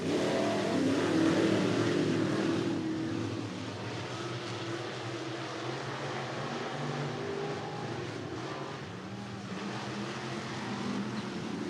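IMCA Sportmod race cars running a heat race at Cottage Grove Speedway, a steady broadband engine roar from a distance that stays loud and even throughout, with no talk.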